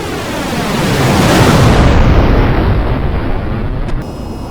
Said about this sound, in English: the moment the camera shifts to outside the aircraft, you're going to hear the engines just blaring